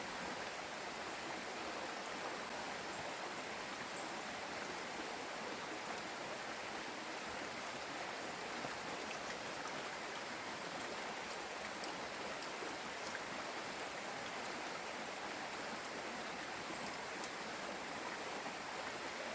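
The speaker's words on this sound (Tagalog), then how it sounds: "Mabababad po tayo ng basa ng ulan." Steady, dense rain pouring down, a constant wash of hiss and patter that stays even from start to finish, with no voices.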